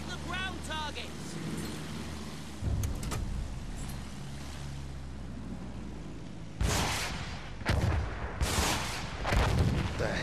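Rocket bursts fired from a WWI biplane at ground targets in Battlefield 1 land as a few loud, broad blasts over a steady droning engine, with a voice talking partway through.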